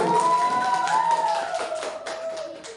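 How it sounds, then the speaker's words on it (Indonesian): Classmates in a classroom clap for a group of pupils, a light scattered patter of hands under a faint sustained tone, fading slightly over a few seconds. "Tepuk tangan, tepuk tangan untuk temannya."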